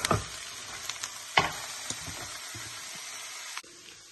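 Tomatoes and carrots hit a pan of browned onions, setting off a loud continuous sizzle with sharp crackles and a few stirring scrapes before the frying noise abruptly drops lower.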